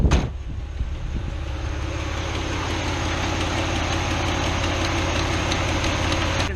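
A 1981-85 carbureted Ford Mustang engine idles steadily in drive with an even, low mechanical rumble and faint knocking texture, loud and close, with no voices.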